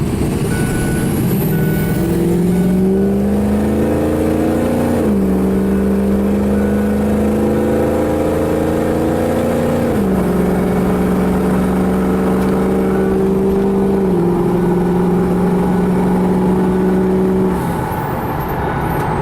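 A Ford crew cab truck with a 6.0 Powerstroke diesel engine merges onto a freeway, its loud, steady engine drone rising in pitch through gear changes, with road roar throughout and no speech.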